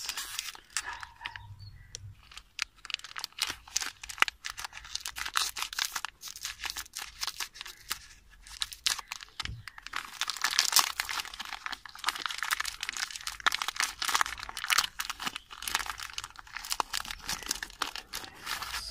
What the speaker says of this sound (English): So now we open the Cadbury Oreo golden cookies.